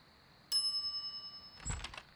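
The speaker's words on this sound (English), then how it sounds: "some idiot's already ringing that stupid bell" Shop counter bell in The Secret of Monkey Island, struck once with a bright ring that decays slowly, then a burst of clattering game sound effects follows; no talking.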